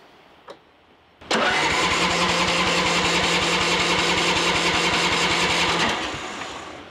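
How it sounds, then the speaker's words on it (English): A small 30-inch riding mower engine cranks over continuously for about five seconds with a fast rhythmic whir, loud and close, then slows and stops without ever catching. A faint click comes just before, and no one speaks. "It should crank over."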